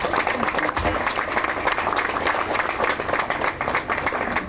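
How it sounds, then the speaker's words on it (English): Audience applause at the Welcome Stadium groundbreaking press conference, continuous dense clapping from a crowd, steady and fairly loud throughout. "let's applaud this project mightily as it moves to implementation"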